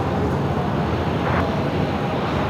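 An American Airlines Airbus A321neo takes off at Phoenix, its engines a steady, loud broadband roar that holds through the moment with no voices over it.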